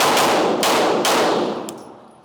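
Pistol with a red dot sight fired at targets during a shooting drill, with about three sharp, loud shots in quick succession whose echoes ring out, then a faint clang at the end.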